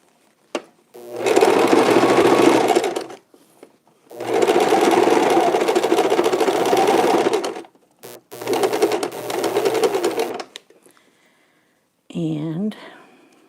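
A sewing machine stitches the bottom seam of a fabric face mask in three steady bursts of whirring motor and needle, each a few seconds long with short pauses between, close and fairly loud, followed by a brief spoken phrase at the end.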